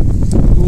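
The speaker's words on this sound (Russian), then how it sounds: "Ой, шатает, как бы не упал, ветер поднялся." Outdoor wind gusting across the microphone during home plastering work, a loud low rumbling buffet throughout the short moment with no voices.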